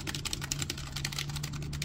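Keys on an M Tech STK 05 standard wired office keyboard being pressed, a steady run of quick, soft clicks close by, alone over a low hum.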